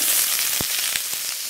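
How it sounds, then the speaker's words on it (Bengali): Sliced bitter gourd frying with already fried potatoes in hot oil, a continuous close sizzle broken by a few soft stirring knocks. "কেটে রাখা উচ্ছেগুলো দেব এখন।"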